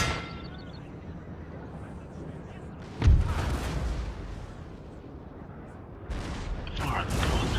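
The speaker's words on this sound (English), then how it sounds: "the horse artillery are firing over the heads of these guys" Horse artillery in Napoleon Total War opens fire as one sharp cannon boom partway through. Other booms and battle rumble sit in the background, and a commentator's voice plays faintly over the field noise.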